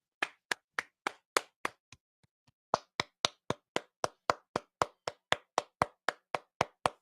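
A single pair of hands claps close and crisp at a steady pace of about three per second, a short faint stumble near the two-second mark, then even clapping resumes, applause offered for Katrina's mother.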